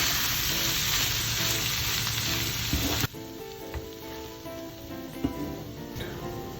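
Soaked, washed poha is tipped into a hot pan with corn and coriander and stirred, giving a steady loud sizzle; a short scrape near the middle is followed by quieter, continued frying with light stirring clinks.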